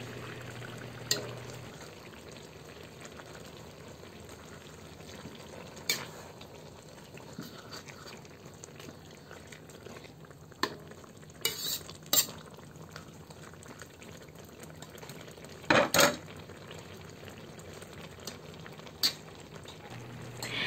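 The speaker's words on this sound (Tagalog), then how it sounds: "Haluin natin ito paminsan-minsan." Laing made from taro leaves simmers quietly in a pot with a faint, steady bubbling. Occasional soft clinks and scrapes come from stirring, spread over about twenty seconds with no voices.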